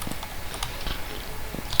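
Light, quick clicks of typing on a computer keyboard, soft and irregular, with a sharper tap at the end.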